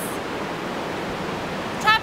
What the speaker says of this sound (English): I hope you can hear us because of the waves and the wind.